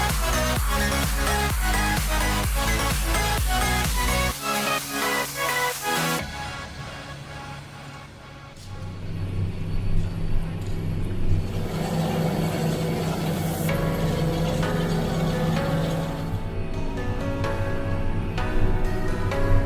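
A tractor drives across a field preparing soil for rapeseed sowing at about 12 km/h, a steady loud engine drone with mechanical rattle, mostly alone.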